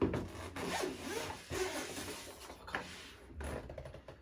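A DJI Mavic Mini carrying bag has its zipper drawn open in a few scratchy, rasping pulls, close and fairly clear, with no talk over it.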